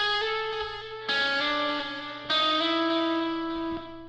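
A sustained, heavily processed electric guitar lead with held notes and shifting pitch, thick with distortion and echo, played alone at steady volume.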